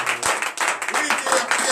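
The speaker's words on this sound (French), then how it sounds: "Donnez de vives acclamations à notre Seigneur." A congregation at a morning prayer service claps in quick, uneven bursts with cheering mixed in, close and steady for under two seconds.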